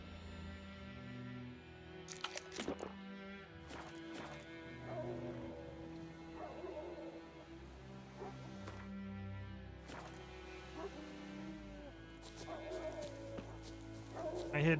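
Dogs bark and yip repeatedly in The Witcher 3: Wild Hunt game world, several sharp barks scattered over a dense bed of music and ambient rain-like noise, with a voice talking at times.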